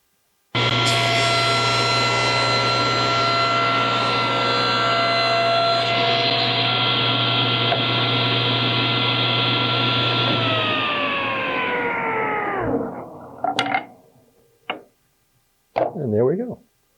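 A table saw cuts through a piece of wood held by a MicroJig gripper push block, a loud steady whine with a low hum that drops in pitch as the cut finishes, followed by a few short clatters and a brief spin-down.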